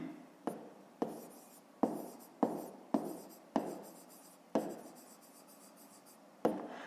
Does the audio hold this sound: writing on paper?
yes